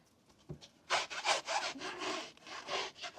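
Car window glass on a VW Scirocco R is scrubbed before tint film goes on, a run of close, rhythmic rubbing strokes that rise and fall in bursts with no talking.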